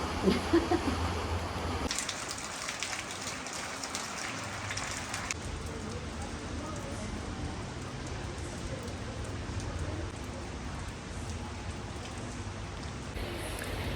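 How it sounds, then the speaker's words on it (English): Rain during an October storm in Stalis, Crete, a steady close patter and hiss of drops on surfaces, with heavier splashing at the start and no one speaking. "Sometimes it rains on holiday."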